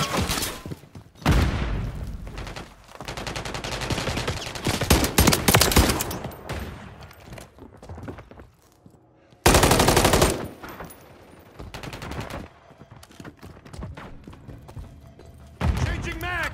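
Machine gun fire in Modern Warfare III crackles in long, loud automatic bursts with sharp gunshots and thuds, broken by brief pauses while voices speak between volleys.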